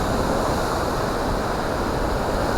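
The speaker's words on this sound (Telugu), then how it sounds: "ఈ వాటర్ ఫోర్స్ కూడా చాలా డేంజర్ ఉంటుంది" Water rushes forcefully through a canal in a steady, broad, roaring wash, fairly loud and unbroken, mixed with some wind buffeting, with no voices.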